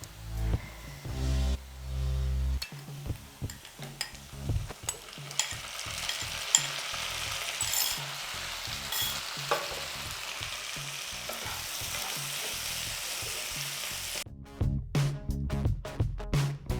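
Mutton sizzles and fries in a pan while being stirred, giving a steady loud crackle with frequent scraping bursts throughout.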